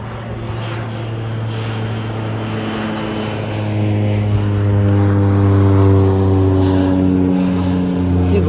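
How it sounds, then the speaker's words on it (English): Low-flying propeller airplane overhead, a loud steady engine drone with a strong low hum that swells as it passes closest, with no talk. "There's a plane going over."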